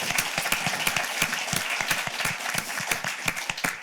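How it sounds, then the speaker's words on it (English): A conference audience claps in dense, lively applause, a steady patter of many hands that carries on for a few seconds. "I think they deserve a round of applause for that."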